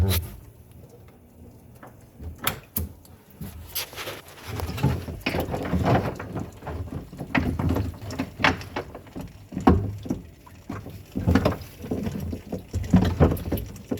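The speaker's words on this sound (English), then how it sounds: "we put the hose on and start the siphon" A hose siphons water from a large 220-gallon aquarium sump, giving close gurgling, sloshing and irregular splashes with knocks of handling, continuous and uneven throughout.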